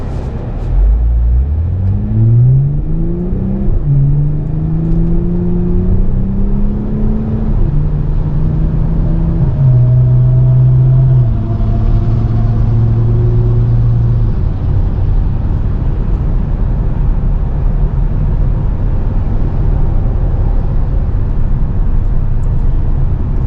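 A 2024 Toyota Camry TRD engine revs up through several gears as it accelerates on the road, the pitch climbing and dropping with each shift, then settles into a steady cruising drone.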